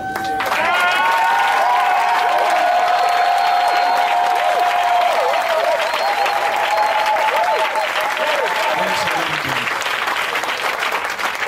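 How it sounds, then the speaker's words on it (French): A church congregation at a Sunday service breaks into loud, sustained applause and cheering for about nine seconds, with shouts and voices over continuous clapping before it fades. "Est-ce qu'on peut donner une acclamation au Saint-Esprit?"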